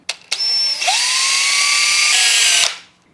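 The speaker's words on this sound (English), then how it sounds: "So let me get these holes drilled and this mounted into the intake." A power drill bores holes in a Honda Dax 125 air intake, with a loud continuous whine after a few short start bursts, the pitch rising then stepping down before it winds off.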